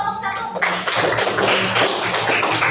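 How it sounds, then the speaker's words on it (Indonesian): A classroom of students claps for a student group: after a brief quiet start, a dense, steady burst of many hands clapping fills the room, fairly loud and continuous. "Tepuk tangan untuk kelompok"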